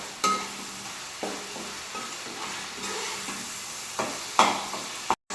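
Onion masala paste frying in a pan for Andhra-style Godavari fish curry, a steady close sizzle with a few soft stirring scrapes and clinks, no talk.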